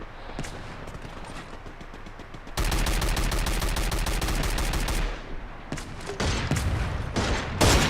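Dense rapid gunfire from the battle game Free Fire MAX: a sustained automatic burst of loud, closely packed shots, then scattered bursts and single cracks continuing nearby.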